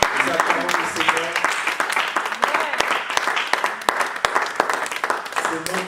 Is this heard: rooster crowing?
no